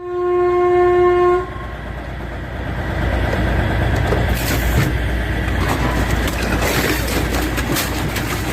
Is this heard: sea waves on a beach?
no